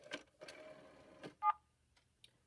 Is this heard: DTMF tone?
yes